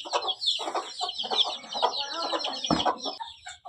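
Several large chicks cluck and chirp continuously at close range while being fed fresh green grass, a busy overlapping chatter with one louder squawk near the end.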